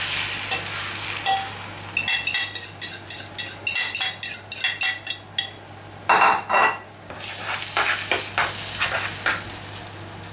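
Tortilla de patatas mixture goes into very hot oil in a pan, with rhythmic clinking and scraping of a utensil against the bowl and pan, then a burst of sizzling frying that carries on under further stirring, no voices.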